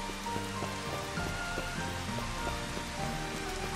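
Steady rain pours over a Venice-like canal city in Final Fantasy XV, an even, continuous patter on surfaces with no talk over it.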